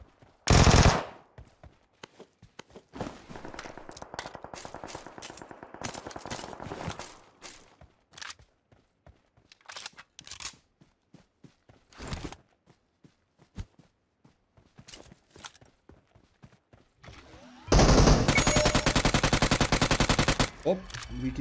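Gunfire in PUBG Mobile, with loud full-auto bursts at the start and end, scattered single shots and short volleys between, and footsteps in quieter gaps.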